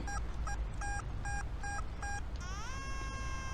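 Metal detector electronic beeping: six short, evenly spaced tone pulses, then a steady tone that sweeps and settles into a held note, jumpy and scratchy, over a constant background hiss.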